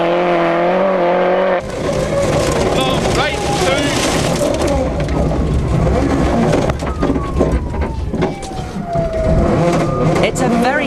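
The BSS Subaru rally car runs a park stage at the 2003 Lurgan Park Rally, its engine roaring loudly alongside skidding tire noise, under continuous commentary.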